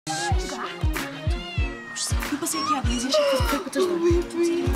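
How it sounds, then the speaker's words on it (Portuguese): A cat meows again and again, high and insistent, over a steady thumping beat that keeps a regular rhythm underneath. "Olha um gato. É um gato."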